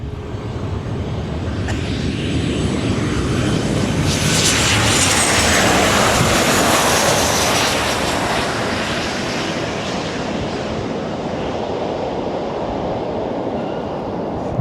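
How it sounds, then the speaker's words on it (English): A Nauru Airlines Boeing 737-800 comes in to land, its broad engine roar swelling loud as it passes close overhead, then lingering as a steady wash of noise, with no talk. "There she is, the 737-800."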